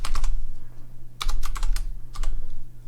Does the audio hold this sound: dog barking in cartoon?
no